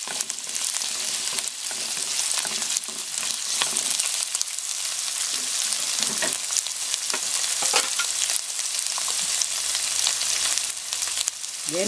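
Onion, carrots and mushroom stir-fry for yakisoba in a hot pan, giving a steady close-up sizzle broken by scraping stirs and clacks from the utensil throughout.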